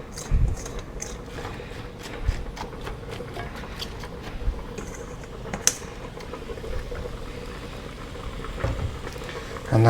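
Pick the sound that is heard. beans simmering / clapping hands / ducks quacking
beans simmering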